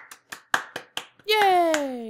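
Hands clapping on a gaming podcast, held away from the microphone: about six sharp, evenly spaced claps, fairly close, followed by a voice cutting in loudly at the end.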